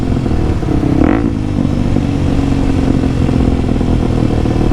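A motorcycle engine, a Kawasaki KLX300SM, drones loudly and steadily under engine braking, its pitch shifting slightly as it decelerates, with wind rush and no talking.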